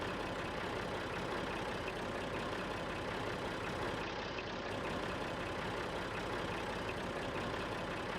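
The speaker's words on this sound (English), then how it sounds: "Hopefully our tractor can pull this." A tractor engine drones steadily in Farming Simulator 19 as it pulls a planter across a field, a continuous low, even rumble with no breaks or talk.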